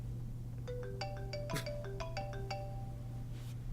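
A mobile phone ringtone chimes a quick run of bright electronic notes, moderately faint against a low steady hum in a quiet room.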